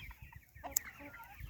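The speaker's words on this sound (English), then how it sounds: "He's not a particularly big chicken" A small, feisty rooster clucks on a farm with egg-laying hens, giving a few soft, close clucks and a brief sharper call amid quiet outdoor ambience and faint background sounds.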